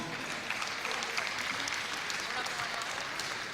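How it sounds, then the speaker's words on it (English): A warm round of applause for volunteers at a high school sports championship event, a crowd clapping steadily and evenly at moderate volume across the whole stretch. "Please give them a warm round of applause for a job well done."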